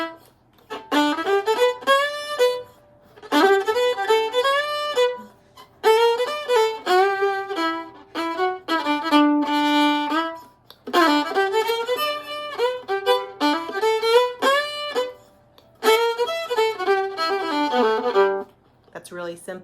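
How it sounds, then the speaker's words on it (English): Violin plays the simple melody of the song Dinah alone, in several bowed phrases with short pauses between them, a clear tone carrying moderately loud and close. "So if I were going to play the melody,"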